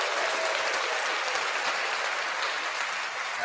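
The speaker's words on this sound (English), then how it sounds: "Give him a clap." Steady, dense applause for a new member joining a live studio Q&A, an even wash of many clapping hands that holds without pause and without talk.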